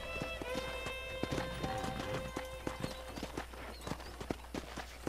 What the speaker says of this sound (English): eu não consigo manobrar o cavalo aqui